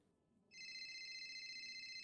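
Incoming call ringtone starts abruptly after a quiet moment and rings steadily, clear and continuous, with no talk over it.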